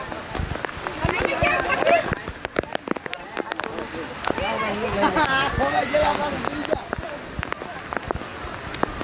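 Rain pours down outdoors at a Jatashankar Mahadev temple in Junagadh, a steady hissing patter under excited voices and crowd chatter that runs through most of the scene.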